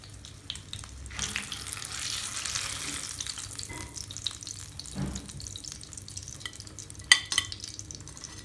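Aloo chapli kebabs fry in hot oil with a soft, steady sizzle, broken by a few scrapes and clinks of a utensil against the pan.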